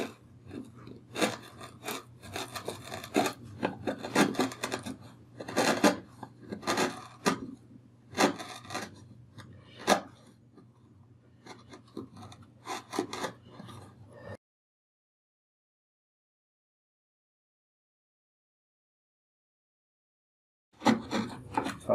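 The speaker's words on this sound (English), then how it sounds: "So I just take a chisel and remove that middle" A chisel pares away the middle protrusion of wooden tenons for a Sheraton bowed chest, giving a run of sharp scraping and rasping strokes up close, then a long silence before the cutting resumes briefly at the end.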